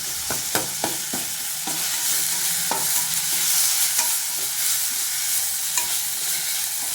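Okra sautéed with coriander powder in a pan for vendakkai pachadi: a steady sizzle broken by several sharp scraping clicks from the spoon stirring, with no voices.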